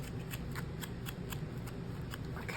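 Scissors snipping magazine paper for a journal collage, a series of light, crisp cuts in an irregular rhythm over a steady background hiss, close but fairly quiet.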